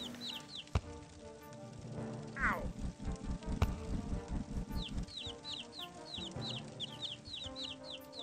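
Chickens in a Shrek Xbox video game, a steady series of clucks and bird chirps over looping game sounds, with a voice talking in between.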